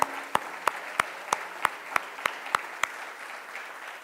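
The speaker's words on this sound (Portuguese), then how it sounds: "Aplauda Ele mais uma vez, porque é bom aplaudir ao Senhor." A church congregation at a Sunday service claps in a slow, even beat, about three sharp claps per second, fairly quiet, before the clapping fades out.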